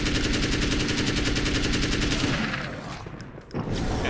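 An assault rifle fires in Alan Wake's American Nightmare: loud, rapid, evenly spaced automatic shots that are close and continuous, with a brief dip near the end before the firing resumes.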